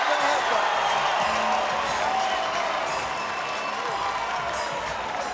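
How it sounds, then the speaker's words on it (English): A boxing crowd at the Mauricio Herrera vs Jesus Soto Karass bout roars and cheers in a continuous, dense wall of noise, with voices mixed into the din. "the crowd's going wild"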